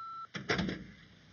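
A home answering machine gives one short, steady, high electronic beep, followed by a brief clatter and soft rustling as the line opens.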